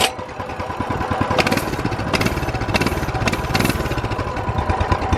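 Modded minibike engine running on a ride, a loud, close buzzing putter with rhythmic pulses and brief surges of throttle, continuous throughout.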